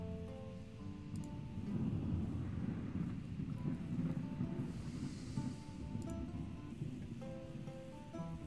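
Low rumbling thunder rolls outside during a windy storm, a steady distant roar with rain-like hiss throughout, faint and continuous, with a tonal hum layered underneath.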